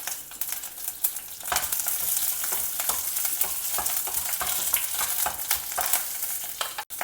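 Curry leaves, a green chilli and a dry red chilli fry in hot oil for a South Indian breakfast dish, giving a loud, dense, continuous hiss with crackles and stirring scrapes, close by and without speech.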